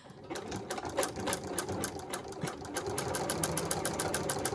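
A sewing machine basting a seam on jeans, running in rapid, evenly spaced stitching clicks that speed into a steady mechanical rattle, close and clear with no talk.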